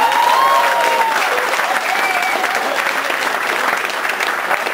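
Audience applause after a stand-up comedy set, a dense, loud, continuous clapping from a crowd that holds steady for several seconds with a few whistles mixed in.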